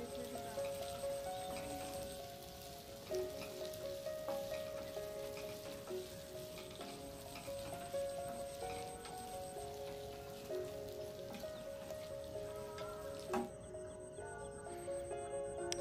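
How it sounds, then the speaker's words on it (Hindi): Sabudana khichdi with curry leaves and chopped green chilli frying in a pan, a faint continuous crackling sizzle under quiet background music, no talking. "करी पत्ता और कटी हुई हरी मिर्च को मिक्स करके इसको थोड़ा हम भून लेंगे 10 से 15 सेकंड तक"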